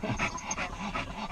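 An old dog panting after a short walk, heard as quick, soft, rhythmic breaths close by under a steady background hiss, with no talking.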